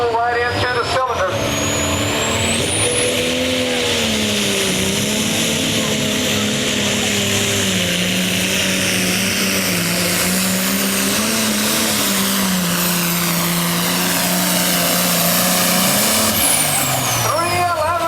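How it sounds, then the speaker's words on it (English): A turbocharged drag racing car engine at a drag racing event revs hard and steadily for most of the stretch, the turbo spooling up with a rising whine, loud and close, with a voice talking over it. "building up that RPM, building up the boost pressure, getting that turbo spinning"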